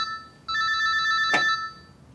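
A telephone rings indoors with a single electronic ringtone burst, steady and fairly loud, followed by a brief click partway through.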